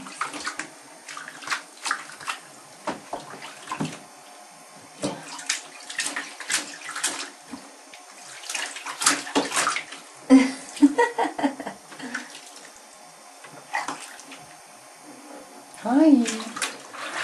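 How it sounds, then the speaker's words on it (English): A six-month-old baby splashes in bath water with light, irregular slaps and drips close by, while an adult talks and laughs softly throughout. "Ooh, I just splashed myself."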